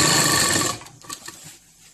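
A sewing machine stitches the fabric of a pair of pants, giving a loud, steady mechanical whir for under a second. It then stops, leaving faint handling clicks alone.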